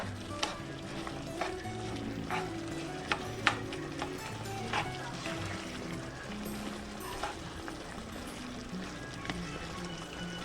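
Ground meat frying with gravy for shepherd's pie, a steady crackling sizzle with scattered sharper pops, moderately loud and continuous throughout, with a low hum of kitchen noise underneath.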